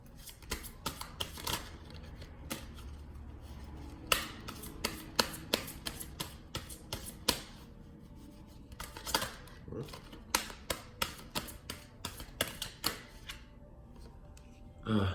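A deck of Fountain Tarot cards is shuffled and drawn. It gives off crisp bursts of riffling and sharp slapping clicks in irregular clusters, close and distinct against a quiet room.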